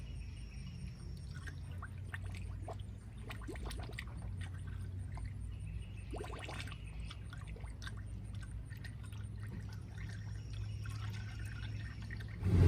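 Water trickles and pours steadily into the coolant of a Kia/Hyundai 2.0 engine, a continuous low-level liquid flow with no talking, ending in a brief louder splash.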